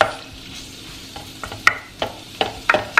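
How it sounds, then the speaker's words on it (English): Food cooks in an electric hot pot with a soft continuous sizzle and a few sharp stirring clatters, heard close and alone without any talk. "is that nice sizzle that lets me know my stuff is cooking"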